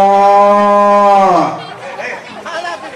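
A crossbreed cow gives one long, loud moo lasting over a second, then fades out, followed by fainter rustling and background chatter.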